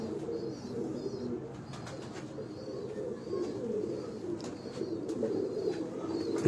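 Pigeons coo continuously from a rooftop loft in Lahore's Qurban Line, several low, rolling calls overlapping at moderate distance, with faint chirps from other birds above.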